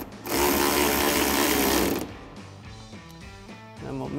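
A ratchet snugging down a fender flare bolt on a Toyota Tundra, first as a loud dense whir, then as a run of distinct, evenly spaced clicks, close and with no talk.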